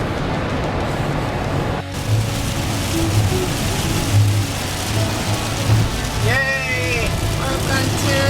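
Steady heavy rain pours down during a storm in Utah, a dense constant hiss close by with low rumbling underneath, and a voice briefly heard near the end.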